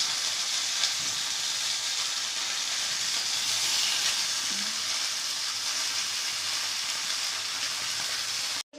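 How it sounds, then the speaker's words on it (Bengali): Stale pitha cakes, unwrapped from sal leaves, frying in hot oil with a steady, even sizzle and hiss that runs throughout without any voices. "ফাইনালে আমাদের বন্ধু পিঠে ভাজা শেষ।"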